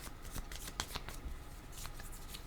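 Tarot cards are shuffled close up in brisk, papery riffles and slides for a couple of seconds, with no talking.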